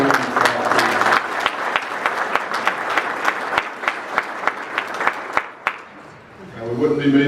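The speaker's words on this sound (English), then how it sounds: "Let's all give him a round of applause." Steady applause from an audience at an annual meeting awards ceremony, dense clapping with sharper individual claps, fading out before a voice resumes speaking.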